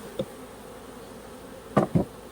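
Russian honey bees from a swarm near a hive, a few short close buzzing passes, one early and two in quick succession near the end, over quiet background, no talk.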